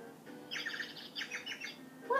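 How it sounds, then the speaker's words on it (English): Bird tweets in the Littlest Pet Shop video game: two quick clusters of bright chirps, clear and fairly soft, with no talking over them. "What makes that tweet sound?"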